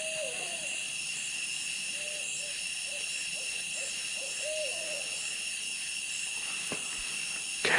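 Faint, distant owl-like hoots repeat every second or so in a mountain forest at night, set against a steady high whine of insects, with a sharp rustle near the end.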